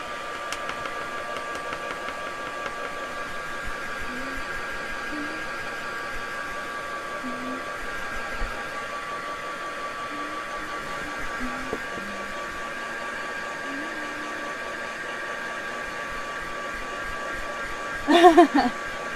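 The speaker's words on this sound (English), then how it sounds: "Now I can give this a zap with a heat gun." A heat gun blows hot air onto a mixed media piece with a steady, fairly faint whooshing whir and a low hum throughout, then a brief clatter near the end.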